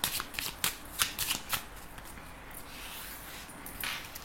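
Playing cards for a cartomancy reading are shuffled close up in a quiet room, giving a run of crisp riffling bursts and soft flutters early on, then a quieter stretch of sliding cards.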